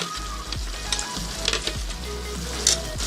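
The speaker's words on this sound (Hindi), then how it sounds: "दही और इसमें प्याज का पेस्ट डाल दें" Onion and yogurt paste goes into a pan of chicken korma, hissing in a loud, close sizzle with repeated stirring scrapes and small crackling pops, without any talk.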